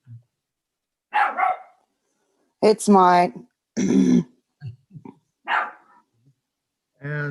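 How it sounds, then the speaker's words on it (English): A puppy barks in short, sharp bursts in a hearing room, several yaps spread across the moment, close and loud, while a person speaks a few words between them. "every time that dog barks, it's going to drown out whoever is speaking"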